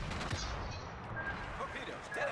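Naval gunfire from the battleship Ise in a naval combat video game, heavy booming blasts and rumble rolling through dense battle noise, loud and close across the whole short stretch.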